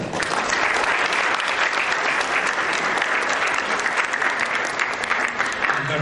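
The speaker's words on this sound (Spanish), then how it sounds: "el actor nacional Don Ramón del Río. Un aplauso para él." Sustained applause from a conference audience for actor Ramón del Río at a human rights congress, dense clapping filling the room at steady loudness for the full stretch.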